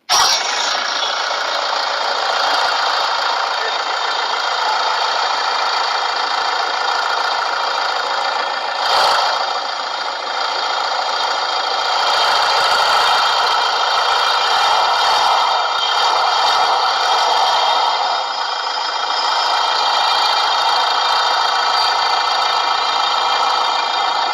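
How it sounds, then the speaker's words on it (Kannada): A 2015 Toyota Fortuner 4x2 automatic diesel idles steadily after starting, a smooth continuous engine drone with a brief dip partway through, close and fairly loud with no talking. "ನೋಡಿದೀರಾ ಇಂಜಿನ್ ಸೌಂಡ್ ಸ್ಟಾರ್ಟ್ ಮಾಡಿ ತೋರಿಸಿದೀನಿ, ತುಂಬಾ ಸ್ಮೂತ್ ಆಗಿದೆ ಇಂಜಿನ್"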